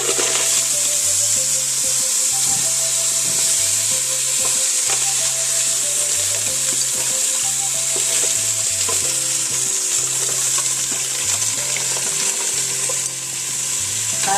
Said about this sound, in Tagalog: Ilalagay na natin yung tahong.